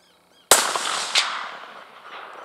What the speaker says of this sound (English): If you can shoot him, shoot him.